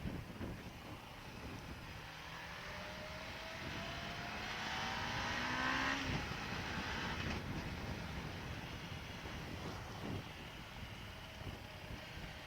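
Kawasaki Ninja 500R motorcycle heard while riding, its engine droning and revving up with rising pitch under heavy wind rush, fairly faint and steady throughout.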